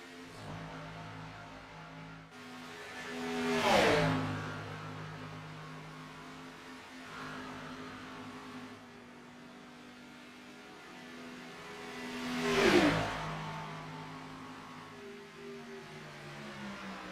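Stock race cars in a racing video game roar past at Daytona, two loud engine swells with pitch-dropping passes about nine seconds apart over a steady lower drone of the pack.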